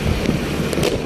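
Diwali firecrackers burst outdoors as a dense, continuous rumbling crackle with several sharper pops standing out near the end, loud and without a break.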